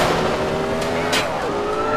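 A car in a video game pulls away, its engine droning steadily near and fairly loud with a brief tyre-squeal burst midway, no talk over it.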